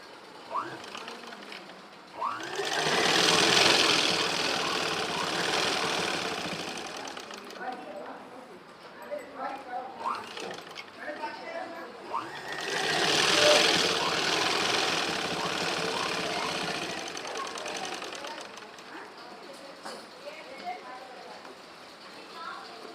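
A sewing machine stitching a small child's dress in two long runs separated by a short pause, a close, steady mechanical whir and rapid needle clatter, with someone speaking throughout.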